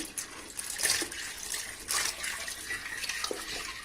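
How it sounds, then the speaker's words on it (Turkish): Milk being poured from a container into a pot of boiled rice on the stove for baked rice pudding, a steady close splashing, trickling pour with brief louder gushes and no talking. "Bu aşamada arkadaşlar sütümüzle kremamızı koyacağız."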